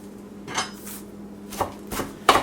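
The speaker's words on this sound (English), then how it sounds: "Look at all these stems from one bunch of cilantro. And next we're going to chop these up." A knife chops through a pile of cilantro stems on a board, four or five separate cuts with soft scraping between them, close up and without any talking.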